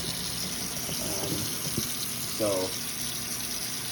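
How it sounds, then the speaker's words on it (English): Warm water runs steadily from a kitchen tap to thaw frozen chicken, a continuous faint hiss and splash with a brief louder gurgle partway through. "thaw this chicken in some warm water"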